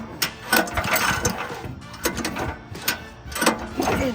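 Pull cord yanked repeatedly to turn over the small engine of a mini excavator after a hydraulic pump repair, giving a series of close, rhythmic ratcheting pulls and mechanical whirs without the engine catching.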